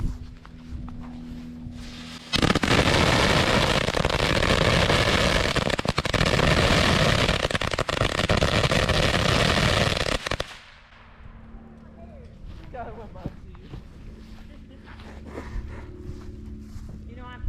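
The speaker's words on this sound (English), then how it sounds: "We got a huge ass firecracker." A large firecracker goes off during July 4th fireworks, a dense roaring crackle of rapid pops lasting about eight seconds. The burst is loud and close, and quieter outdoor sounds come before and after it.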